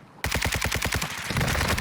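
Rapid automatic gunfire in Warzone 2 bursts out suddenly, a fast string of roughly a dozen loud, evenly spaced shots, then trails into a denser rattle and noise.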